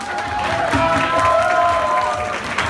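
Crowd at a promotional event for a Thai stage musical applauds the director with a brief, loud, dense burst of clapping and some cheering, while a tonal background hum carries through.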